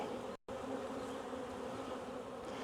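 A honey bee swarm buzzes steadily and faintly from somewhere nearby, as one continuous drone that breaks off for a moment early on.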